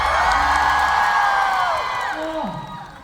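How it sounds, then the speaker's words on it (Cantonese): A crowd of fans at a Macau fan meeting cheers and screams loudly and steadily, a dense wall of voices that fades slightly toward the end, with a vocal swoop rising above it. "全場歡呼唔該！"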